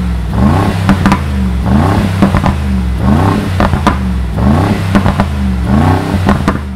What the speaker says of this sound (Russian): Выхлоп на самом деле звучит просто идеально, отстреливает, рычит